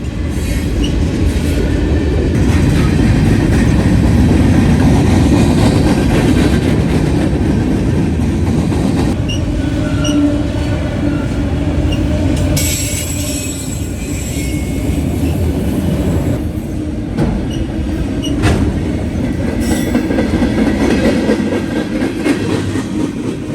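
Norfolk Southern train 179 pulls out of a siding on the Dayton District, a loud, close, continuous rumble of wheels and railcars with clattering joints and occasional brief wheel squeals.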